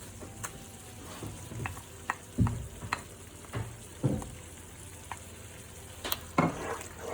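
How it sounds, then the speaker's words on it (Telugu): Onion paste frying in oil for egg curry gives a quiet, continuous sizzle, punctuated by repeated thuds and scrapes of a spoon stirring in the pan every second or so, with no voices. "ఇందులోకి మనం పక్కన పెట్టుకున్న ఆనియన్ పేస్ట్ని యాడ్ చేసుకోవాలి."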